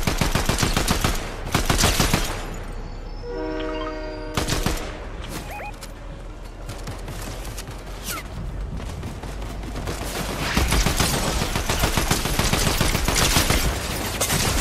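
Video game gunfire rattles in rapid, loud bursts that come and go through the clip, with a brief tonal chime partway in and no speech over the shots.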